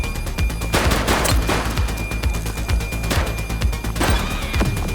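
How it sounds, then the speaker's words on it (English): Gunfire in the police video game The Precinct, loud rapid bursts of shots in a dense, continuous volley with crashing impacts over a busy game soundscape. "He's shooting!"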